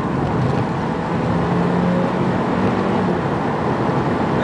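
A 2015 Toyota Corolla Altis with a CVT accelerating, heard from inside the cabin as a steady, fairly loud engine drone and road rumble that holds even and continuous throughout, with no voices.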